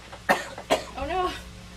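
A person coughs twice in quick sharp bursts close to the microphone, then a voice follows.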